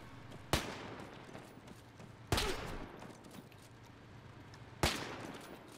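Gunfire in the ArmA 3 WW2 video game: three sharp, loud shots spaced about two seconds apart, each with a short trailing echo, set over a steady low ambient rumble.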